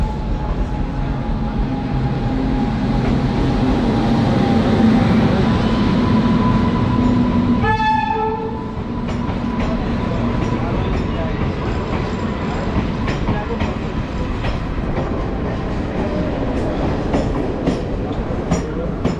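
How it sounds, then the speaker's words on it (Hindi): A passenger train arrives at a station platform for Kalka with a loud, steady rumble of wheels and carriages, and a short horn blast sounds midway through amid station bustle. "यार फाइनली ट्रेन आ चुकी है मेरी"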